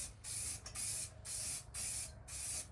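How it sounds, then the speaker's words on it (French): Aerosol can spraying paint onto damaged Audi A5 car bodywork, four steady hissing bursts with brief pauses between them, close and loud over a low background hum. "Peindre à la bombe, ça doit faire partie des choses les plus simples"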